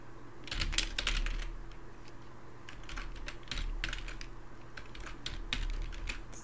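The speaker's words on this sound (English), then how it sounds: "everything you see I'm typing here" Typing on a computer keyboard, bursts of close, crisp key clicks in quick irregular runs with short pauses between, over a faint steady hum and no talking.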